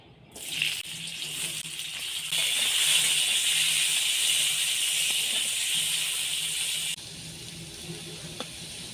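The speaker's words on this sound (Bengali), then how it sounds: "তেলটা গরম হয়ে গেছে, এবার কেটে রাখা আলুগুলো আমি ভেজে নেব।" Cut potatoes go into hot mustard oil in a wok and set off a loud, continuous sizzling hiss that starts abruptly and eases slightly toward the end.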